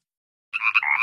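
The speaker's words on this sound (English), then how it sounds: "I found a bunch of frogs." Frogs croaking at a pond in the Little Critter app, a close, loud run of raspy croaks starting halfway in and continuing steadily to the end, with no talk.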